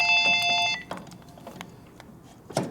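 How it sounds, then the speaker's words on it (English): A telephone ringing in a machine shop during a 1958 Harley panhead rebuild, an electronic ring tone at the start followed by clatter and knocks from the workbench. "Is that phone ringing again?"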